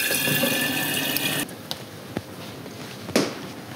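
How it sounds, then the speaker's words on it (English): Water pours from a black watering can onto a ZZ plant in a planter, a continuous splashing trickle that stops abruptly, followed by a few soft drips and small knocks. "I'm just gonna water all the way around"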